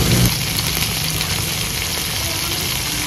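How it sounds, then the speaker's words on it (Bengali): Steady, close sizzling of bitter gourd frying in a pan with salt and turmeric, a continuous hiss with no talk. "এবার ভালো করে একটু ভেজে নেব।"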